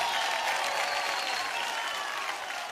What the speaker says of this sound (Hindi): दोनों के लिए जोरदार तालियां हो जाए जरा